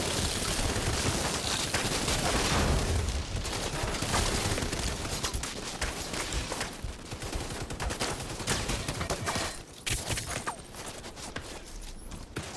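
Shotgun blasts in a player-versus-player match of the video game The Division 2, dense bursts of loud gunfire and impacts that thin out toward the end, with no talking.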